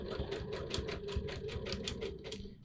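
A sewing machine runs a 3 mm wide zigzag stitch over a fabric edge, its needle hammering in a fast, even chatter over a steady motor hum, close and loud.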